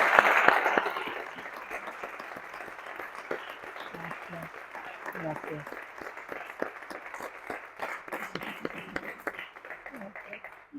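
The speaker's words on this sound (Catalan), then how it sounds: "Un aplaudiment." An audience at a Catalan book presentation breaks into sustained applause after a brief spoken thanks, the clapping steady and moderately close, with scattered individual claps standing out until it thins near the end.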